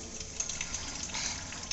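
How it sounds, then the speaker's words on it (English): Water runs steadily from a playground drinking fountain, a soft continuous gushing splash that stays even and fairly quiet throughout with no talking. "Still trying to get used to the whole water fountain thing."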